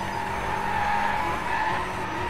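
Sustained tire squeal from a car drifting and skidding in the Drive Club racing video game, with a steady engine drone underneath, loud and continuous with no talk.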